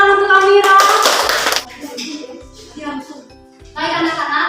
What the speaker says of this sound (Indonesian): Tepuk tangan untuk Amira.